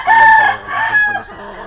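A Super Sweater gamefowl rooster, class AB, crows once, loud and close, with a strong drawn-out call in the first half that trails off.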